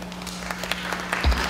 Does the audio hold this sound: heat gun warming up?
no